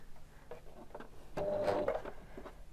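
Overlock serger stitching a short overlapping seam on a Minikrea 50600 elephant hat, a near, mid-level mechanical whir with faint ticks that swells louder for about a second midway, then settles back.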